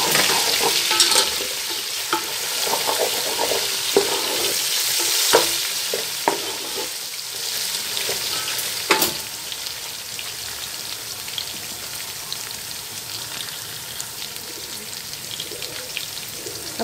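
Green masala paste sizzles and fries in hot oil with browned ginger and garlic while being stirred for mutton tahari, a steady close crackle with occasional scraping clinks of a spoon, no talking.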